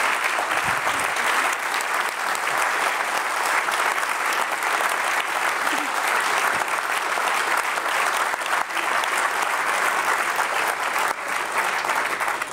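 Audience applause after a panel discussion, loud sustained clapping from a full room that continues steadily, with a few sharper claps standing out.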